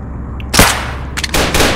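Gunfire from a shooting video game rings out in sharp, loud bursts: a single crack early on, then a short cluster of rapid shots, and a final sustained burst, all over a low background hum.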